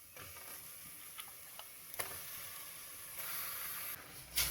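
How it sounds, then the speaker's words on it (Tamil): Half a kilo of turmeric-washed chicken stirred in a pan with softened tomatoes for biryani on a stove, a faint hiss of sizzling broken by scattered clicks and scrapes of the utensil against the pan. "சிக்கனை நல்லா கிளறி கொடுத்து அடுப்பை சிம்மில் வச்சிடலாம்"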